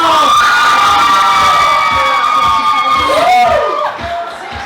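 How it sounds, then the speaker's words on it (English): Wedding reception guests cheer and whoop as a crowd, a loud dense wall of voices and shouts throughout, easing slightly near the end. "Ladies and gentlemen, give a round of applause"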